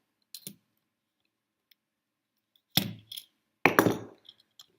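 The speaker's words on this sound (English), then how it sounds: "Now it's loosened up. We can unscrew it." Small screws being unscrewed from a Finalmouse Air58 gaming mouse, heard as a few sparse, close clicks and short scraping ticks separated by silence.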